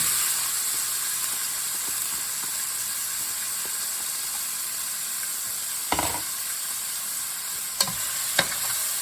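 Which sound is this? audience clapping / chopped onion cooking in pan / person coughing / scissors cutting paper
chopped onion cooking in pan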